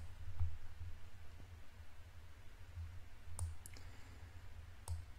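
Faint, sharp computer mouse clicks, a few isolated taps spaced seconds apart over a quiet low hum, with no talking.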